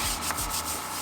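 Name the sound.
scrubbing a car tire with a brush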